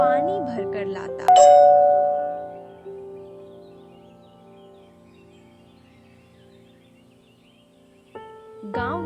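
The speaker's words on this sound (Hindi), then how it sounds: "केशव मंदिर की देखभाल करता, घंटियां बजाता" Bright bell strikes ring out in a temple, one at the start and a loud clear stroke near 1.3 s that rings on and slowly fades, with another strike at the end; voices are faintly present.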